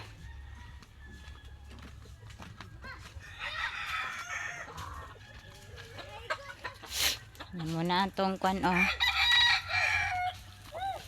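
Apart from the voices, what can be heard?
chickens clucking and rooster crowing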